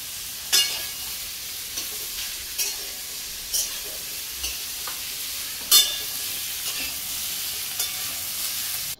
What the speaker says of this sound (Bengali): কড়াইয়ে জিরে এলাচ ফোড়ন দিয়ে আলুগুলোকে প্রথমে ভালো করে মা ভেজে নিল।